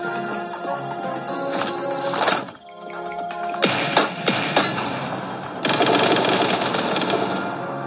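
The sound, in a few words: gunfire in a sniper shooting video game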